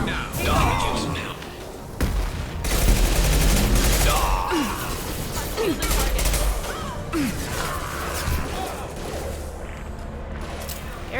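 Rapid gunfire from the video game Mass Effect 2 rattles in bursts over a low rumbling game soundscape, with heavy thumps and booms, weapon mechanism clicks and a few whooshing shots mixed in, while a player talks at times.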